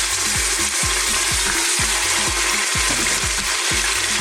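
Lamb pieces frying in olive oil in a pressure cooker, a loud continuous sizzle with a steady, repeating low thumping pulse underneath, close up with no voices.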